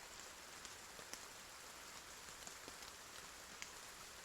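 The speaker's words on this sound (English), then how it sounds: "rain doesn't affect anything" Steady rain falls in Battle Brothers, a soft continuous hiss of drops on a surface with a few faint isolated ticks, low and even throughout with no voices.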